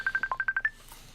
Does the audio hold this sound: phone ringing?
yes